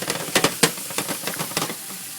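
Eggplant pieces frying in a pan seasoned with salt and pepper, a steady sizzle broken by a quick series of scraping stirs and clatters, close up with no talking.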